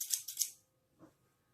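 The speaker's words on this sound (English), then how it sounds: "you just put a little snip, take your scissors, insert it into the snip," Three quick, crisp scissor snips in a row through a jeans pocket, close and clear, followed by a soft faint click in near silence.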